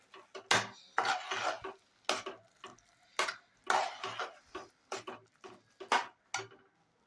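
Khoa being stirred into carrot halwa in a pan, a spoon scraping and knocking against the metal in repeated uneven strokes, close and fairly loud, with no voices.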